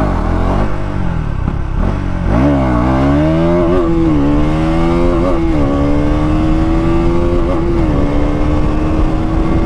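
KTM Duke 200 motorcycle accelerating hard toward top speed, a loud, close engine note climbing in pitch through several gear changes before holding a high steady drone, with no talking.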